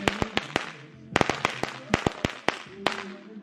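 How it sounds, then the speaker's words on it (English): Fireworks and firecrackers pop off in a backyard celebration, a rapid string of sharp, loud bangs at irregular intervals, some clustered in quick bursts, with faint crackle and background murmur between. "We doing fireworks."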